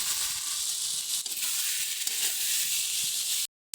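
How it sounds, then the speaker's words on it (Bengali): Fried eggplant pieces drop into a sizzling spice mixture with softened tomato in a pan. A soft, continuous hiss runs throughout with a faint crunch, then stops suddenly. "এবারে দিয়ে দেবো ভেজে রাখা বেগুনগুলো"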